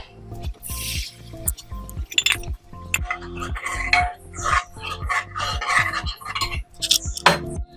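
Soaked buttermilk and sorghum semolina are poured into a pot with wet, squishing splashes and drips, mixed with repeated clinks and knocks of a utensil at close range.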